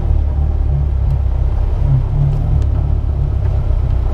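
A Caterham Seven 360R creeps along in stop-start traffic, its engine giving a steady, close low rumble throughout with no clear revving.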